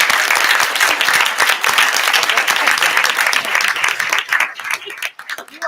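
A school board meeting audience gives a big round of applause for student honorees, steady and full for several seconds before thinning into scattered claps at the end.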